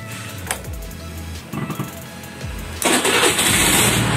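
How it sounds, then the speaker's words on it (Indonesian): A Honda Beat injection scooter cranks on its electric starter with a few brief whirring attempts, then catches and settles into a loud, steady close-up idle. "Kita coba cek menggunakan starter tangan ya, atau electric starter ya sob."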